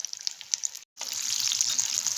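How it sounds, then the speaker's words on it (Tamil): Ridge gourd bajji in a pan of hot oil gives a steady close fizzing bubble and sizzle, briefly cut by a moment of silence before resuming stronger and continuous, with no voices. "இந்த மாதிரி லைட்டாக எண்ணெயில் பபிள்ஸ் மாதிரி வந்துகிட்டே இருக்கும், சத்தம் கேட்கும்"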